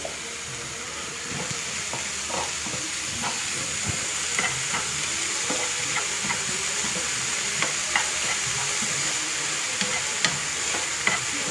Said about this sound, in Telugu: ఈ బ్రొకోలీని కొంచెం ఫ్రై చేసుకొని సాల్ట్, కొంచెం కారం, పెప్పర్ పౌడర్ వేసుకున్నామండి